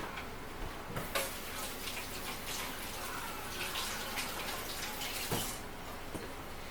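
Steady running water for rinsing during honey extraction splashes continuously, a broad hiss with occasional louder splashes and clinks, close by and with no talking.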